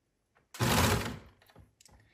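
Sewing machine stitching around the curve of a side seam pocket, a single short burst of fast stitching lasting under a second, followed by faint clicks.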